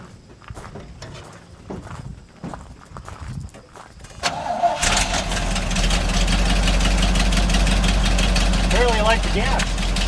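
A 1975 GMC C6000 truck engine cranks and fires about halfway through, then settles into a loud, steady run with revving, after a stretch of quieter shuffling and handling sounds; someone speaks briefly.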